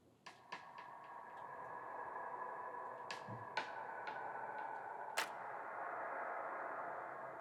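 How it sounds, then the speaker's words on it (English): Synth sounds treated with an echo effect in a drum and bass production, sharp plucked hits that repeat and trail off into soft echoes over a faint steady tone, quiet overall. "I quite like it with the echo actually."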